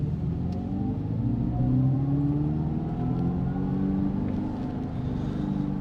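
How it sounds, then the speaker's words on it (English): A Dodge Charger Daytona electric muscle car launching and accelerating, a steady low rumbling drone with a rising whine that swells and then holds, heard from inside the cabin without talk. "We'll do a little bit of a launch here."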